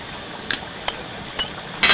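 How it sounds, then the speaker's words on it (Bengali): A utensil stirs garam masala powder into a fish curry in a pan, making four sharp metallic clinks spaced irregularly over a quiet background. "এভাবে নাড়িয়ে দেব"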